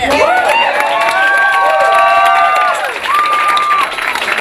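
Ecstatic crowd at a Democratic campaign headquarters on primary election night, loud cheering, whoops and applause from many people filling the room, with sustained shouted tones rising over the clapping.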